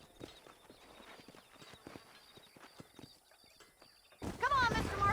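Horses in the Red Dead Redemption video game clop along in a steady rhythm of hoofbeats, ending with a loud whinny, under background game ambience.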